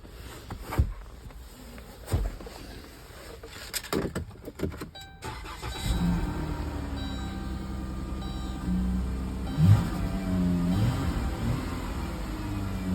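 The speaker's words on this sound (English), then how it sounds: "It's like alternator noise in this one too." A used car at auction idles steadily at close range, with a continuous engine and alternator whine running under clicks and handling noises in the first seconds.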